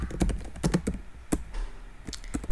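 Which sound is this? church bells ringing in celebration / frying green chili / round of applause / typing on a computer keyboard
typing on a computer keyboard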